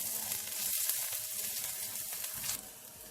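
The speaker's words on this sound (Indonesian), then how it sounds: "jadi kita tumis sebentar sampai keluar harumnya ya dari bawang putihnya" Garlic sautéing in a wok sizzles and crackles steadily at close range, a continuous frying hiss with no voices.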